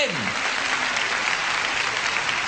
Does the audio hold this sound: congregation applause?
yes